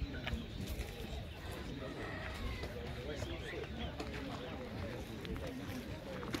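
Pigeons cooing at an outdoor bird market fair, soft low coos mixed into a busy crowd hubbub, with people talking nearby throughout.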